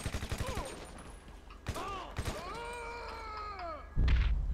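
Gunfire in GTA V comes as a rapid burst of shots at the start and another loud volley at the end, with voices and wavering tones in between.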